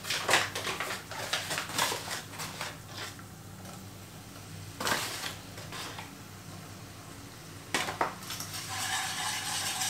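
Flour being stirred into melted butter in a pan for bechamel sauce, with repeated scraping and clinking strokes of a utensil against cookware over a low steady background, some bursts louder than others.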